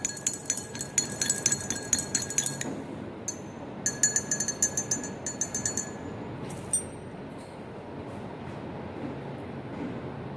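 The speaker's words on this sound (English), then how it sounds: "let me stir now" A rod stirring sand into water in a glass beaker clinks rapidly and rhythmically against the glass in several bursts, then the sound fades into a quiet gritty swirl.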